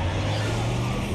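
A four-wheel drive vehicle reverses at full throttle through snow, its engine roaring loud and steady. A voice may be faintly present underneath.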